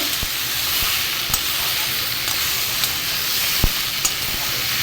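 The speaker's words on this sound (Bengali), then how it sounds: "মাছের মাথাগুলো দেখুন ভালো করে ভাজছি এদিকে সবজিও ভাজা হচ্ছে" Fish heads fry in a pan with a steady, close sizzling hiss, broken by a few light clicks of stirring.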